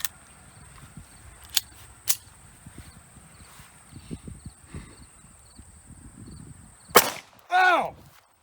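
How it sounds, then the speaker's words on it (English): A single sharp, loud 9x18 Makarov pistol shot from a CZ82 fired at a Swedish M37/65 steel helmet cracks out near the end, after quiet outdoor background with a few faint clicks, followed immediately by a brief vocal burst. "we're going to move on to the 9x18 Makarov out of the CZ82"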